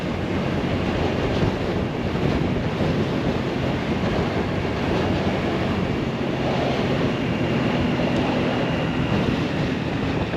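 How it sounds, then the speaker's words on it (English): Strong wind roars across the microphone during a ride on a Honda Navi motorcycle, a loud, steady broadband rush that stays constant throughout with no talk. "And it is incredibly, incredibly windy."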